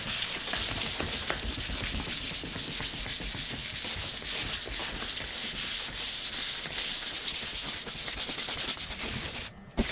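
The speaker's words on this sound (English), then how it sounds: "So I'm just using this 3M sanding pad" Continuous rough rubbing of a 3M sanding pad with 800 grit across a flat Subaru 2.5 RS car roof in a garage, loud and close, in quick back-and-forth strokes until a brief stop near the end.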